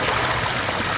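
Tubewell water gushing out steadily onto farmland, a continuous broadband rush of flowing water with no break, loud and close.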